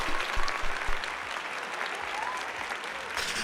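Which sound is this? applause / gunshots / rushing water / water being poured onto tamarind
applause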